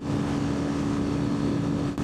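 A Yamaha Fazer FZ25 motorcycle engine revs hard at sustained high rpm, a loud, steady, strained drone that holds without letting up throughout.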